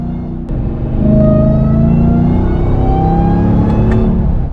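A Ram TRX truck with a CPS cold air intake holds a sustained, loud rev, its engine rumble overlaid by a steady high supercharger whine, close by, then cutting off abruptly.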